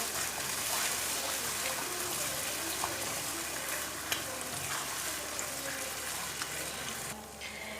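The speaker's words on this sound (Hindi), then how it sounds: "अब इसके अंदर मैं डालूँगी 1 कप और दूध का। अब इसे मिक्स करेंगे।" Milk poured and stirred into a semolina and egg mixture in a hot pan, a continuous loud sizzle with scraping stirring and a soft liquid rush, close up.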